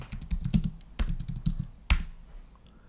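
Keystrokes on a computer keyboard as a command is entered on a CSR 1000V router console, a quick burst of close, crisp taps followed by a few separate louder presses and a final key hit.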